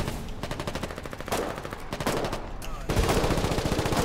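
Rapid automatic gunfire in the Foxhole war game during a battle for Viper's Pit, dense bursts of shots close by in several volleys, getting louder toward the end.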